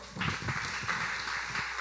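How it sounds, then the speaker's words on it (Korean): A church youth group audience claps to welcome two new members at a Sunday service, a steady, moderately loud patter of many hands filling the room with no break. "우리 박수로 함께 환영해 줄까요?"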